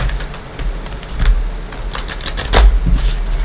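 A deck of Light Seer's tarot cards is shuffled by hand, a close run of papery flicks and riffles with a sharp snap near the end, no talking.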